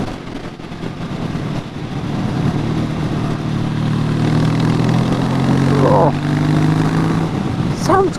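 A Praga ZS 800 motorcycle engine revs and holds a steady, loud drone that rises and falls in pitch, with a brief higher whine near the end and no one talking.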